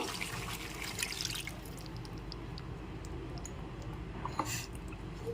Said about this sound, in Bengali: দইটা দেওয়ার পরে এবার আমি এর মধ্যে একটু জল মিশিয়ে নেব।